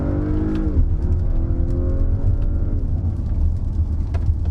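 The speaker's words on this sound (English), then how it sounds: "I'm gonna put the car in Sport Plus, and I'm just gonna use the paddle shifters here, and we're gonna punch it just a little bit" A 2020 Acura RDX A-Spec SH-AWD accelerating hard in Sport Plus with paddle shifters: a steady engine drone rising in pitch, a quick drop at an upshift, then climbing again, heard from inside the cabin with no talk.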